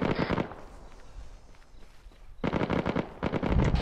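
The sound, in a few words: gunfire in Arma 3 video game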